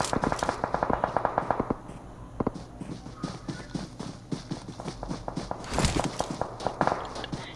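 Rapid gunfire in a video game firefight beside a supply drop, dense bursts of automatic shots and sharp cracks, loud and close, with a busy flurry near the end.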